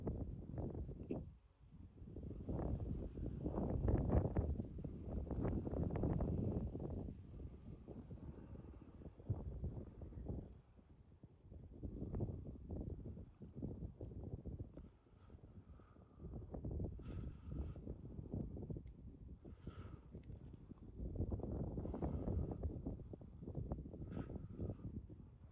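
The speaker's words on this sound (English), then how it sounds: "we have a very brisk, cool wind out tonight" Brisk, cool wind blowing outdoors at night, rising and falling in long gusty swells that buffet the microphone with a low rumble, steady throughout with no voices.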